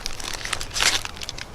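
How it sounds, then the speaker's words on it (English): Plastic packaging crinkles and crackles as an Israeli bandage is pulled out, with a louder burst of crumpling partway through. "Pull the Israeli bandage out."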